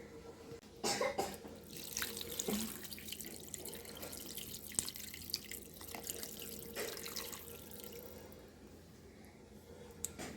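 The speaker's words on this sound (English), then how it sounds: "I want to have the beans all covered, so I'm going to add some more." More water runs into a crock pot over beans and a ham bone for soup, a close steady pour with splashes and drips and a brief cough partway through.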